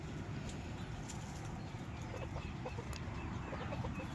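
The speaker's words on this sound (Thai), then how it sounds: "ไก่ไทยฮ้อง" A Thai fighting rooster crows faintly in the distance in Israel over a noisy outdoor background, with other fowl sounds scattered around it.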